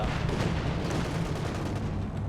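Katyusha rocket artillery firing in the video game Company of Heroes 2, a dense rumbling barrage of launches and blasts blurring into one continuous low roar, fairly quiet and without speech.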